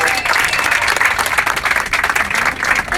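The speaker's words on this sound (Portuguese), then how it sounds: "Uma salva de palmas para eles." Passengers applaud accordion entertainers aboard a plane stuck on the ground at Findel airport, a dense, continuous burst of clapping close by.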